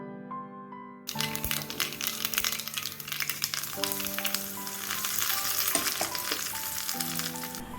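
Mustard seeds, curry leaves and dried chillies hitting hot coconut oil. A sudden loud burst of crackling and spitting follows a quiet start, then settles into a dense, close sizzle with sharp pops scattered through it.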